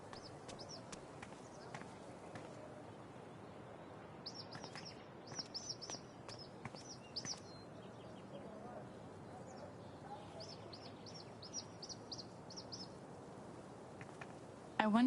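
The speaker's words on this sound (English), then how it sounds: "I wonder if this is the bird that woman is looking for." Short bird chirps in the video game Life is Strange True Colors, clusters of high tweets repeating in bursts over a quiet ambient background, with a voice speaking softly at times.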